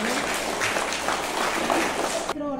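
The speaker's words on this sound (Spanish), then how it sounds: "Un aplauso para ellos." Applause for third-year children after their homage to the national flag at a primary school closing ceremony, a steady wash of crowd clapping that cuts off near the end as a voice begins.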